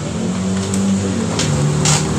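A Yamaha X-Ride scooter engine, fitted with a faulty fuel pump IC, running steady and close after starting, with a low even hum and a couple of brief higher bursts.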